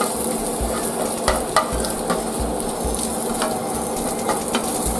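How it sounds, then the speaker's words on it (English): Bacon, ground beef and chorizo fry in a pan for chili mac, with a steady close sizzle and crackle throughout and a few brief stirring clinks over the hiss. "we're going to cook up the bacon real quick, heat it up a little bit"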